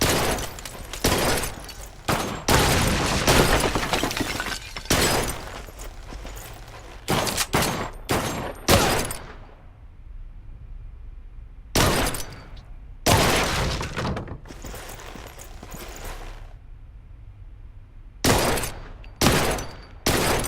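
Gunfire in the Blue Estate shooter comes in loud, sharp volleys, clusters of rapid shots broken by short gaps of quieter ambience, with crashing and shattering mixed into the barrages.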